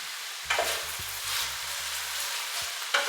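Carrots and cabbage being stirred into a hot pot for Jamaican cabbage, with a steady sizzle running throughout and a series of scraping spoon strokes through the middle, sharp clatters at the start and near the end.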